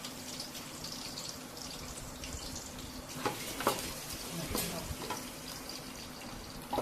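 Two medium chopped onions fry in oil in a pan with a faint, steady sizzle, broken by a few louder stirring scrapes and clicks near the middle, with no talking.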